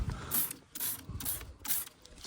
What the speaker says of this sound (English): spray this stuff on there